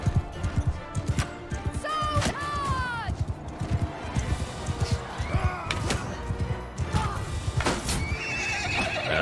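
Horses in Mount and Blade Bannerlord whinny several times over steady clopping hooves and scattered clattering impacts, loud and close.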